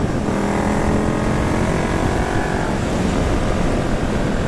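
A 2019 Indian Scout Bobber motorcycle pulling hard under throttle, its engine a loud, steady, continuous roar that holds close by for the whole stretch with no pauses.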